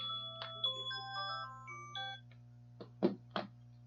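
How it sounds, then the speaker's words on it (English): Phone alarm going off, a soft melodic electronic chime of short stepped notes under a low steady hum, followed by a few faint knocks or clicks. "That was my alarm"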